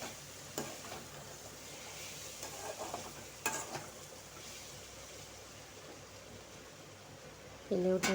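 Potatoes frying in a pan are stirred now and then, a low steady sizzle broken by occasional sharp scraping knocks, with a brief burst of a voice or clatter at the very end.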